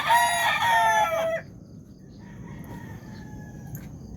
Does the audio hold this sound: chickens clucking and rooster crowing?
yes